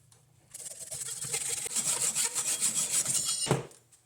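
A hand saw cuts through a piece of wood for a wizard-style picture frame, a few seconds of close, loud, rhythmic rasping strokes ending in a sharp final snap.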